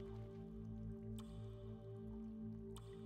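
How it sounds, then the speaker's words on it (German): Water drips in the Einsamkeit game, a small drop falling at a slow, irregular rhythm: faint, sparse plinks over a steady low ambient hum, with no voices. "Dieser kleine Tropfen leistet schwere Arbeit."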